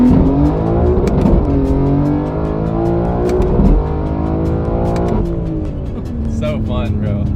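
A BMW G80 M3 accelerating hard through second gear, the engine note climbing steadily in loud, sustained pulls with brief dips at shifts, heard from close by with faint talk in the background.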